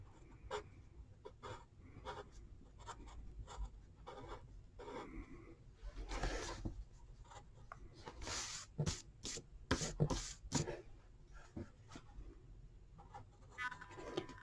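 A pencil scratches and rubs across paper in short, faint strokes, some quick and some drawn out, while a tank is sketched up close in a quiet room.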